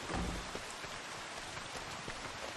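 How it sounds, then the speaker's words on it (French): Rain in the Farming Simulator 25 video game falls as a steady, even hiss of dense drops with no pauses or voices. "Bah, je crois qu'il pleut."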